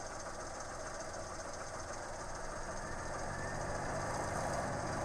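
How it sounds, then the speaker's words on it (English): A 1985 Chevrolet Sprint with a carbureted engine idles steadily as its cooling fan switches on, a constant low mechanical hum with a faint whir rising slightly toward the end. "the fan just turned on"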